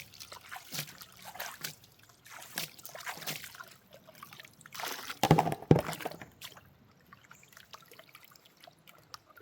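Water sloshing and splashing in a gold prospecting pan outdoors, with intermittent swishing surges, trickles and drips and one louder splash in the middle, close and fairly quiet.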